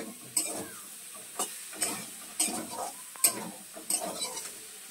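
Curry frying in a pan with ginger, cumin and mustard paste, stirred in a quiet kitchen, giving a soft sizzle and a few sharp scraping clinks of the spoon against the pan at irregular intervals.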